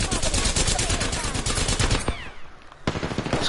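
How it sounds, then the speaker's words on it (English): Sustained machine-gun fire from the battle royale shooter Apex Legends rattles in dense, loud bursts, with a short lull before another volley and a brief voice in the mix. "Someone's shooting somewhere."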